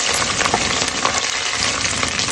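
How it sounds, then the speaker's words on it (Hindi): Beef pieces with garlic-ginger paste frying in a pan for aalu gosht, a dense, steady close-up sizzle with faint stirring scrapes, continuous for a short stretch. "और इसको थोड़ी देर ना गोश्त अच्छे से इसमें भून लेंगे"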